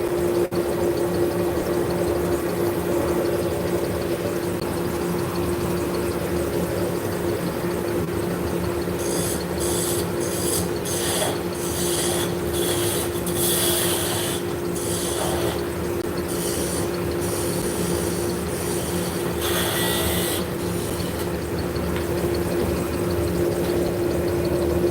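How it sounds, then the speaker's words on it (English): Wood chips are held against a spinning wood piece to burnish it, making intermittent hissing friction bursts over a constant, loud mechanical hum with a steady tone. "we're going to take some wood chips, we're going to hold it against the surface. So it's burnishing, it's just like a friction polish"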